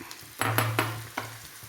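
Chicken pieces and curry leaves sizzle in hot oil for a chicken pickle, with a steady frying hiss and a few stirring scrapes partway through, close and clear.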